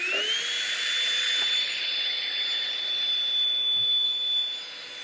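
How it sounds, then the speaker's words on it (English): Vacuum cleaner sucking debris out of a rusty metal part from a Sega OutRun arcade machine, a loud steady whine holding one high pitch throughout, tapering off slightly at the end. "Let me come in here real quick and vacuum this out."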